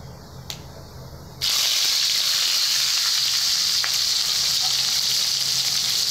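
Onions dropped into hot oil with cinnamon, cloves and cardamom for jackfruit biryani, a loud sudden sizzle that bursts in after a quieter spice fry and holds as a steady close hiss.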